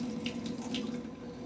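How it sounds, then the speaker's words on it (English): Cool water runs steadily from a kitchen tap into a sink while beets are peeled under it, a close, continuous splashing hiss with no speech. "We're going to peel them under running water."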